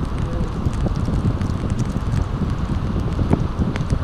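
Steady broadband wind roar buffeting the microphone, loud and continuous with gusty rustling throughout.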